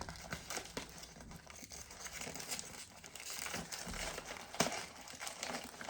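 A plastic snack packet wrapper is opened by hand, giving intermittent close crinkling and crackling rustles with a sharper tear-like burst near the end, fairly quiet overall.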